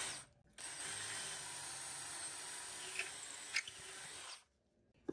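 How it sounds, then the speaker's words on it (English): A drill bores a hole through a wood piece clamped in a vise for a garden potting bench build, a steady whirring grind of about four seconds that starts and stops abruptly, faint and close. "And we're just gonna drill out the one hole."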